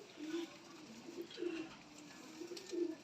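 Lakha pigeon, a female offered for sale, cooing in several soft, low murmuring phrases spaced a second or so apart, close by over faint background hiss.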